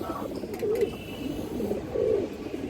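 Pigeons coo in soft, low repeated calls at a farm selling high-flyer and racing pigeons, with a faint background hum and no speech.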